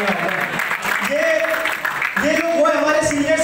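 An audience claps for honored guests, including a maharaj, at a community network event. The applause rattles along under a sustained tonal voice or music for a few seconds.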